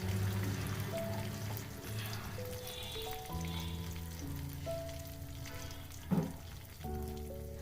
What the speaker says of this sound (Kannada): ಅದನ್ನು ಕೂಡ ಒಗ್ಗರಣೆಗೆ ಸೇರಿಸ್ಕೊಂಡು ಫ್ರೈ ಮಾಡ್ಕೊಳ್ತಾ ಇದ್ದೀನಿ